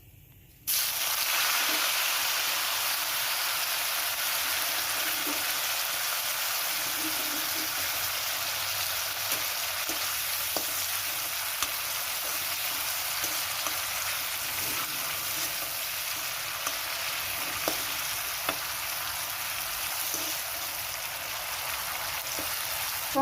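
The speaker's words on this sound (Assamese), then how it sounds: "তেলতে মই এতিয়া নৰসিংহ পাতখিনি ভাজি ল'ম।" Curry leaves fry in hot oil for a Bihu chira snack, giving a steady, dense sizzle throughout with faint crackles and light stirring taps, close and continuous with no voices.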